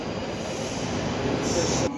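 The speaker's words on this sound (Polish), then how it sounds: "zaraz kolejny pociąg przyjeżdża i będzie trochę gorzej słychać" A London Underground train at Euston station, a loud, steady rumbling roar of the carriages with a high metallic wheel squeal rising near the end, in an echoing platform space.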